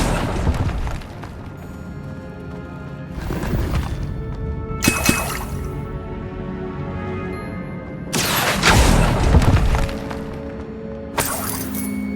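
Blasting fire spell cast in the Hogwarts Legacy video game, heard as several loud bursting, shattering booms with crackling debris, repeated at intervals over a low, continuous ambient game background.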